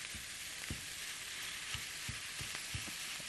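Minced meat sizzles steadily in a hot pan for a stuffed zucchini dish, a dense bright frying hiss with a few soft clicks and stirring knocks, close by and with no voices.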